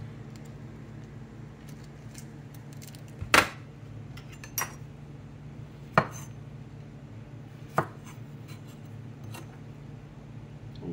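A knife slicing through biscuit-wrapped fish rollups on a cutting board, four separate sharp chops spaced a second or so apart over a faint steady background hum.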